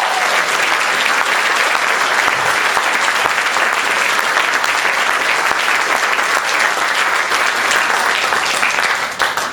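An audience at the Kessler Theater in Dallas applauds steadily for almost ten seconds, a dense, even wash of clapping that fades slightly right at the end.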